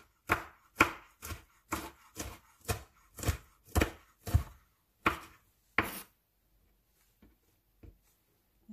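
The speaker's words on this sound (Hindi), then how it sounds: "ऑनियन हमारी कट चुकी है और अब हम ग्रीन चिलीज काट लेंगे।" Knife chopping green chilies on a board while making poha, about eleven sharp, evenly spaced cuts close up, then a few faint taps after the chopping stops.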